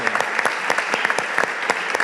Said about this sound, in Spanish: yo quiero que también lo recordemos con un aplauso